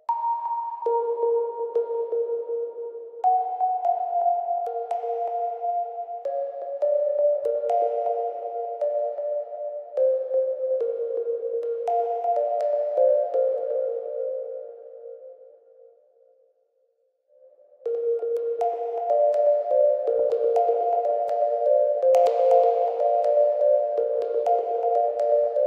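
A soft, sustained melody of synth pluck tones with long reverb tails in FL Studio, steady notes stepping up and down, pausing briefly before resuming.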